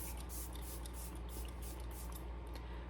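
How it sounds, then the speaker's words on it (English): Morphe Luminous setting spray misted from a bottle, a steady close hiss of fine spray bursts running continuously with no talking. "I'm also going to go ahead and go with my Luminous Setting Spray by Morphe."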